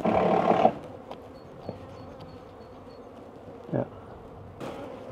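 A few honeybees buzz faintly at an opened hive holding a weak, nearly empty colony. A short spoken word opens the sound, and brief knocks interrupt the low hum.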